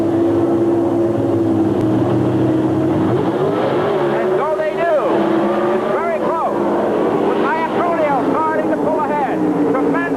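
Drag racing cars on the strip at an 80s televised event, a loud continuous engine roar with rising and falling pitch sweeps as the cars rev and accelerate. A commentator talks over it.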